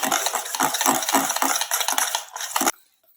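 A utensil scrapes and taps rhythmically against a bowl while semolina cake batter is stirred, quick repeated strokes close up, then it stops abruptly.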